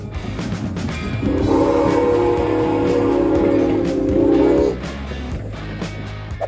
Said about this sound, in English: There's just something strangely majestic about an approaching steam train, isn't there?